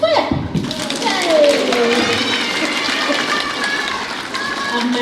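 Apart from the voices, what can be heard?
children and audience clapping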